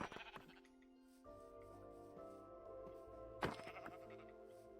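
Sheep bleat in Minecraft, with several drawn-out, wavering calls that follow one another and a short thunk partway through. The calls are fairly close and clear.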